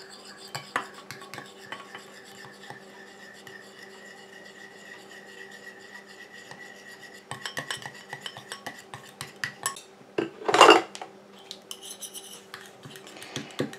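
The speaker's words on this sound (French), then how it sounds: "Et j'incorpore ma phase aqueuse tout en mélangeant." A spoon stirring an aqueous phase into a cream emulsion in a bowl, quiet repeated scraping and clinking against the bowl that grows busier toward the end, with one louder knock, no voices.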